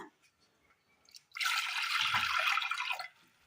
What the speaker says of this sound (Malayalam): അടുപ്പത്തൊരു ചട്ടി വെച്ച് കൊടുത്തതിന് ശേഷം അല്പം വെള്ളം ഒഴിച്ചു കൊടുക്കാം ചെറു ചൂടുവെള്ളമാണ്